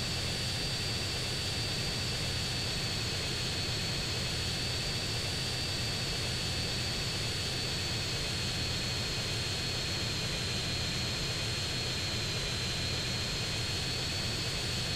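Airplane engine in the video game GTA San Andreas, a steady continuous drone with a high whine running evenly throughout at moderate level, no talking.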